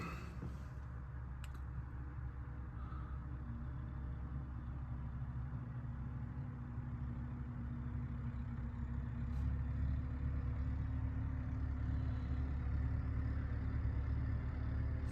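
A New Holland tractor running in a field, its engine giving a steady, close, continuous heavy rumble that swells slightly louder toward the end, with no talking heard.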